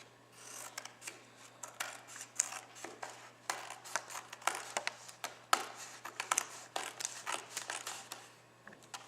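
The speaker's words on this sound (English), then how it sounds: "So I just want to quickly trim it off." Scissors trimming excess paper for a 12x12 vintage scrapbook layout, quick close snips and rustling paper in an irregular run of crisp cuts.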